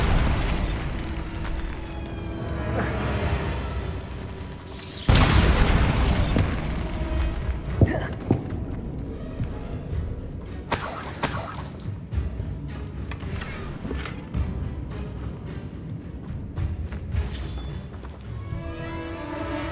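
The Bombarda blasting spell goes off in Hogwarts Legacy with a loud burst around the middle, then scattered crackles, debris clatter and mechanical rattles over game ambience.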